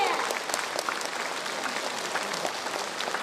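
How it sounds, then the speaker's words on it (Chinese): Concert audience applauding at a 2019 sixtieth-anniversary concert of He Zhanhao's Butterfly Lovers; dense, steady clapping fills the hall without letting up for the whole stretch. "热烈的掌声再次响起"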